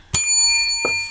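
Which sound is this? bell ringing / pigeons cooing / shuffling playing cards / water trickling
bell ringing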